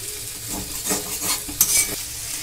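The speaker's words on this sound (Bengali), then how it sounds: "আলুটা কিন্তু আমার ভাজা ভাজা হয়ে গেছে কথা বলতে বলতে বন্ধুরা, আর কিন্তু ভাজার দরকার নেই।" Potato pieces frying in a pan give a steady sizzle while a spatula scrapes and stirs them in several close, loud strokes, with one sharp clatter near the end.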